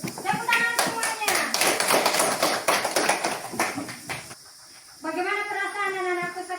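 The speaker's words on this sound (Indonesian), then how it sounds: "Tepuk tangan semuanya." Schoolchildren in a classroom clap their hands in quick rhythmic bursts for several seconds, close and lively, with a teacher's and kids' voices chanting along and talking afterward.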